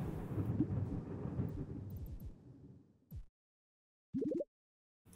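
Rolling thunderstorm effect in the video game Ballionaire: a long broad rumble swells and fades over three seconds, followed by two short, sharp thunder cracks after a brief silence.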